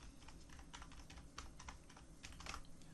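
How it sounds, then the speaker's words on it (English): Rapid typing on a computer keyboard, a quick irregular patter of light key clicks in short bursts, close and quiet, with no talking. "So if you type in HT lingual chaos,"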